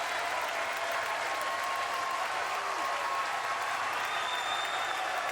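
A Texas baseball crowd cheers and applauds steadily at the end of a 2015 game, a dense, loud roar of clapping and voices that holds throughout without letup.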